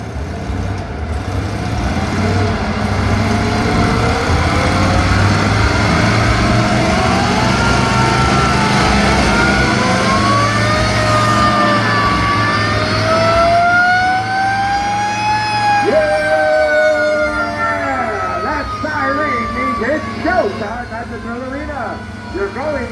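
Vintage Indian and antique Harley-Davidson motorcycles circle a wall of death arena at a car show in Maple Lake, Minnesota, engines droning loud and steady with rising and falling pitch, while an announcer talks over the noise.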